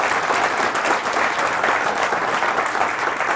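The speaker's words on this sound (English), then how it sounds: "Now you may applaud." Audience applause at a Cleveland mayoral debate, a dense steady clapping from a large crowd that holds at full strength throughout, with no talking over it.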